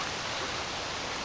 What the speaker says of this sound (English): It's raining really, really hard right now.